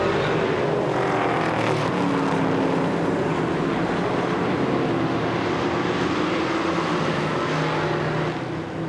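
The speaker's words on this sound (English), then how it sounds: "Leary and Stanch battling for 4th place as they come off the corner here in lap 4" Short-track race cars roar in a dense, continuous engine drone as they battle off a corner during a final qualifier, loud and sustained throughout with no speech.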